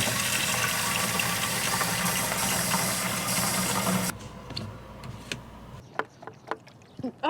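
Water sprays steadily onto a homemade mini bicycle wash station, a loud, continuous rushing hiss that cuts off abruptly partway through, leaving quieter scattered splashes and drips.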